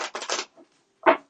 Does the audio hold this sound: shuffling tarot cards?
yes